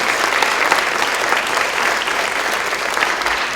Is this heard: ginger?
no